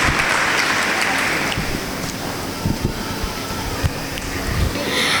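A congregation at a church prayer gathering clapping hard, a dense, continuous patter of many hands with scattered sharper claps.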